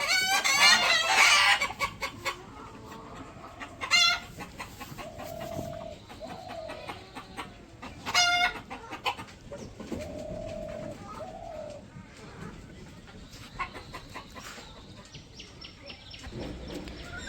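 Chickens clucking and calling inside a village farm coop, with bursts of squawking from disturbed birds and a rooster crowing in the mix, close and lively over a steady backdrop.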